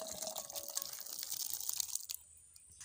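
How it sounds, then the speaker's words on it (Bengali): Thick ghugni, a curry of dried peas, poured from a pot into a serving bowl in a home kitchen, giving a wet sloshing, dripping pour for about two seconds before it stops and goes quiet. "এবারে এই পাত্রে ঢেলে নেব।"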